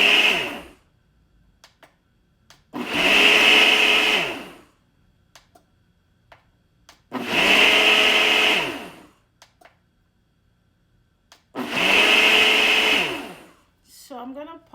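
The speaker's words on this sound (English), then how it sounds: "So we're gonna go ahead and blend it." Countertop blender whirring through a sleep-aid recipe drink, running in three loud sustained bursts of about two seconds each, separated by quiet pauses with faint handling knocks.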